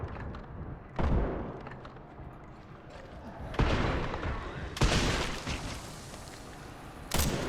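Rifle shots boom in a Resident Evil game, several heavy reports spaced a second or more apart amid game noise, with voices talking between them.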